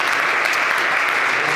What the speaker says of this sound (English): A big round of applause for the connoisseur